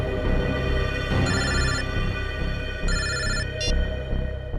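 A telephone rings loudly in repeated electronic bursts over a continuous backdrop of music, a bright trilling ring that recurs several times with no talk.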